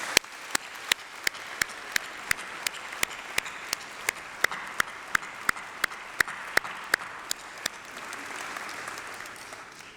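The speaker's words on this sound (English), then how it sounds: "Graduates, please join me in a massive round of applause for your families, friends, and loved ones." Applause at a graduation ceremony: a broad crowd of clapping hands fills the hall, with one loud nearby clapper striking a sharp, regular beat on top before the sound tapers.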